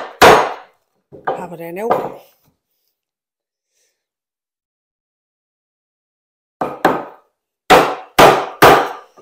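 Sharp chisel chops into wood while making a Moxon vise, a single strike followed later by a run of several loud, close knocks, with a brief spoken remark and breathy sounds in between.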